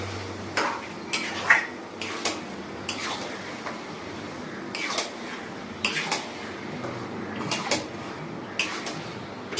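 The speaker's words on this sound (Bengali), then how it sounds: "মটনটা দিয়ে আস্তে আস্তে কষে নেবো" Mutton being stirred in a pan over low heat, heard as intermittent clinks and scrapes of a utensil against metal over a quiet background.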